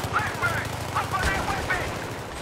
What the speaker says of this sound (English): didn't even know they were here and they're already shooting us